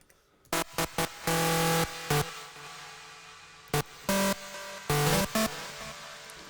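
A bright trance synthesizer lead preset plays short stabbed notes and a few held tones in an uneven pattern, with gaps of quiet between phrases.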